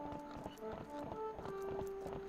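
Horse hooves in the video game Zelda Twilight Princess, a quick steady clip-clop of galloping steps under a sustained musical tone, moderately close.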